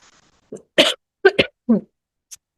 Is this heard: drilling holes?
no